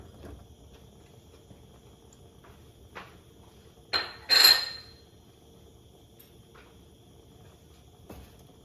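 Garlic being mixed into canned sardines in tomato sauce: a few sparse utensil clinks and scrapes against a bowl, two brief sharper knocks in the middle, otherwise quiet, no talking.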